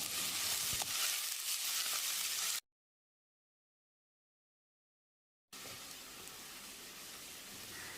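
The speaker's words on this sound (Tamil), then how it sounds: "கொஞ்சமாக கருவேப்பிலையை சேர்த்து வெங்காயத்தை பொன்னிறமாக வதக்கிடலாம்" Continuous crackling sizzle of onions with curry leaves frying in oil for chicken curry, cut by a stretch of dead silence before the frying sound resumes.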